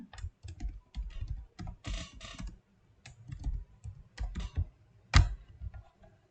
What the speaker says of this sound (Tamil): இந்த மாதிரி ஃபஸ்ட்டு எல்லாத்துக்கும் நான் டைப் பண்ணிக்கிறேன்.